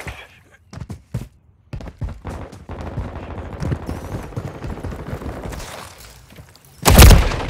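Gunfire in Call of Duty: Modern Warfare III: scattered sharp shots and short bursts at close range, with a heavy loud blast near the end over a rumbling battle background.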